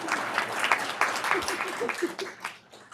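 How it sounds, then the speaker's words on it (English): An audience at a Board of Education meeting applauds a high school student being introduced. The clapping is dense and fairly close at first, then thins and fades as a voice begins speaking over it. "audience, if you can hold your applause till the end, that would be fantastic"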